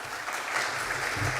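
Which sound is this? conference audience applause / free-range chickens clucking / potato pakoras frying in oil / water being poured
conference audience applause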